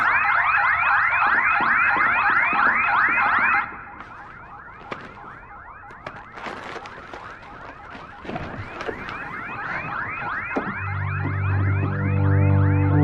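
An electronic alarm blares loudly, its rapidly warbling, repeating tone cycling steadily, dropping in level partway through, then swelling again and running under other mechanical noise to the end.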